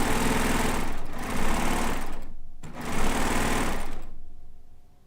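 A sewing machine stitches the many seams of a Kaffe layer-cake quilt while its border is attached, running in two long, steady bursts separated by a brief pause before stopping.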